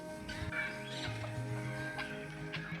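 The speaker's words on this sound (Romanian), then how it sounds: "Aici sunt ceva bibilici, găini pitice, găina pitică" Guinea fowl and bantam chickens cluck and call in short bursts close by at a zoo, with a steady background hum and some faint bird chirps mixed in.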